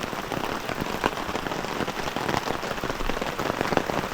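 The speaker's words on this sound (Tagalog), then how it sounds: "Pero parang humupa natin yung ulan." Steady rain falls at a campsite in Ridgeview, Sibalew, a soft continuous patter on surfaces with scattered sharper drops, moderately quiet and without voices.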